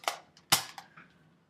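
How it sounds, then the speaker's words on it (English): A gun loading sound effect plays as a few sharp metallic clicks and clacks, close and loud, with two strong snaps and lighter rattles between them. "record sound effects for an animation like gun loading"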